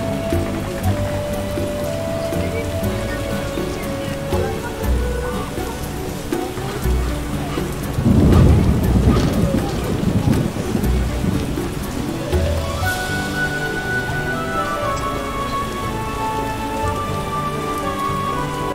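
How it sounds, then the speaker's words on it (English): Heavy rain in The Witcher video game pours down in a dense, steady hiss, swelling briefly louder partway through with a low rumble, then settling back to a constant downpour. "A real downpour."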